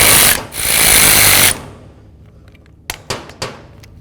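A power tool snugs bolts holding a new wiper motor onto the regulator of a 2002-2008 Dodge RAM 1500, with a loud close whirring burst of about 1.5 seconds followed by a few sharp clicks.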